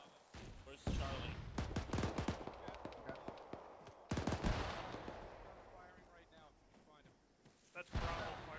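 Bravo team firing during a military field training exercise: scattered gunshots and short rapid bursts at moderate distance, with people talking over the shooting.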